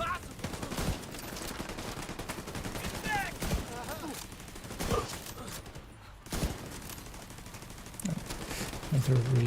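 Turret gunfire in a video game, rapid repeated bursts of shots rattling steadily over a busy, dense battle mix at moderate volume throughout.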